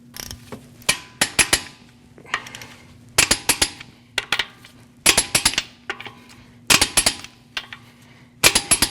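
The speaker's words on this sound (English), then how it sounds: "we're going to torque these at 100 foot-pounds in a crisscross manner" A torque wrench tightens the lug nuts on a 2014-2023 Jeep Cherokee wheel in a crisscross pattern, giving loud, sharp metallic clicks and clacks in quick clusters that repeat every second or so.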